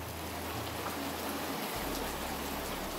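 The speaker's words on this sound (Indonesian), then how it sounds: "kota Sepunggur diguyur hujan kawan-kawan" Heavy rain pours steadily over a transmigration village, a dense unbroken hiss of falling water with no voices.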